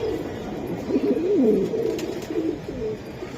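Military-breed pigeons coo close by in a soft, rolling series of low throaty calls, steady over a faint background hum.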